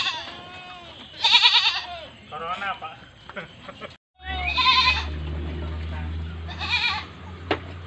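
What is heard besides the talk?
goats bleating in a goat pen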